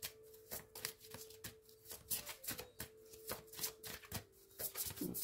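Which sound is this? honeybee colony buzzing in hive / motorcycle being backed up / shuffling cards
shuffling cards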